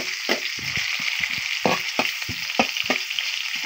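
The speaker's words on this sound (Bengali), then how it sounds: "পেঁয়াজটাকে লাল করে নিতে হবে।" Onions sizzle in hot oil in a pan while being browned for a dried-fish bhorta with onion shoots, a steady frying hiss with repeated scraping and stirring taps, close by and with no talk.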